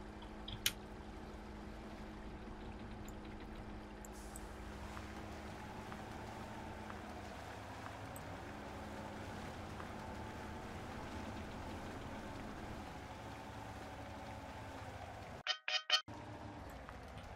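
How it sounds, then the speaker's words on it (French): A vehicle engine runs in a video game as a quiet, steady tonal drone that shifts pitch once midway, with a brief clattering burst and short silences near the end. "Ah, le moteur il marche."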